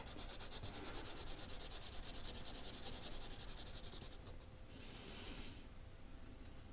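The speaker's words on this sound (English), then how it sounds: "I'll take and sand it down just a little bit" Steady scratchy rubbing of a sanding stick on the mudflap of a Matchbox cattle truck, continuous and close, with a brief higher-pitched squeak near the end.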